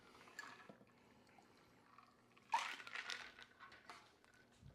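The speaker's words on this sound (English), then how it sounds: "Let's pour our cocktail." Strawberry rhubarb margarita poured from a shaker into a glass garnished with strawberry slices: a short splashing pour begins midway and trails off, with faint clinks before it.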